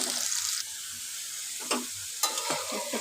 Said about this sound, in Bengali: আলুটা ভাজা হয়ে যাচ্ছে।